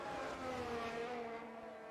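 F1 race cars in the F1 22 video game at the Belgian Grand Prix, engines droning in a steady, faint high-pitched whine as one car overtakes another, with tones sliding gradually downward.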